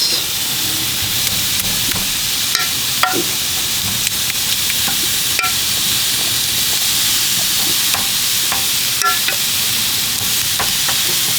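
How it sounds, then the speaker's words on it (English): Coca Cola pork ribs sizzle steadily as they are basted with sauce, a continuous close hiss broken by scattered small pops and clicks. "Basically, we are basting these ribs."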